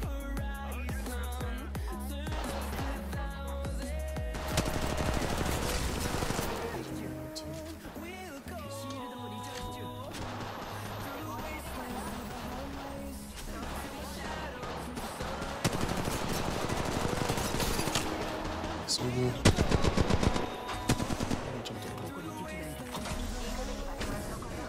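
Rapid pistol and automatic gunfire in the mobile shooter Apex Legends Mobile crackles almost without pause, loud and dense over a busy game soundtrack throughout.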